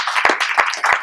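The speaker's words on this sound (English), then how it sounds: "So round of applause for Mario Yuka Morales." A short burst of audience clapping at a boxing press conference, with several dense swells of applause, loud and close, and no talk over it.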